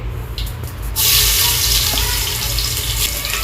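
Garlic dropped into a hot pan of oil while making dal, a bright, continuous sizzling hiss that surges up after a quieter start and holds steady, loud and close, with no talk.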